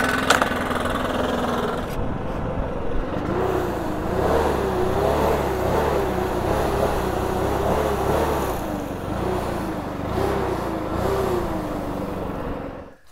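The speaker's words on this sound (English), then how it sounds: "So I'm going to use my blower and I'm going to gently blow that little bit of dirt that's left in there." Leaf blower running steadily at close range while clearing leftover dirt from a freshly cut lawn bed edge, its loud motor drone wavering in pitch throughout and cutting off at the end.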